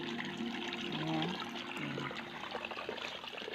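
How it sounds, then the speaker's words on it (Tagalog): Strong rushing flow of water from a supply pipe feeding a tilapia fish pond, a steady broadband gush that continues throughout, with a voice briefly audible near the start. "Tubig guys. Kusog kayo ang tubig."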